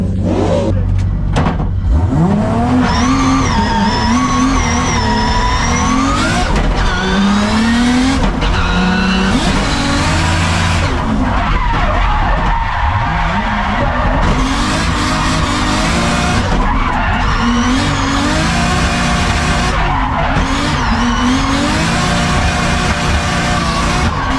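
A drift car on a qualifying lap at a drift league round, engine revving hard and roaring continuously with repeated tire squeal and skidding, loud and close throughout with no talk.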